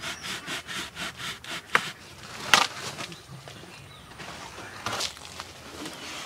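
A hand-held saw blade cuts a piece of wood for a Christmas crib, giving quick rhythmic rasping strokes up close, then scraping and handling noises as the cut finishes.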